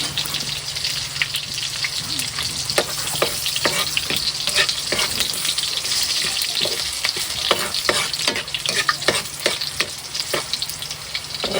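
Onions frying in boiling cooking oil, stirred steadily, giving a dense continuous sizzle with frequent sharp scraping taps of the utensil against the pan, close and fairly loud throughout.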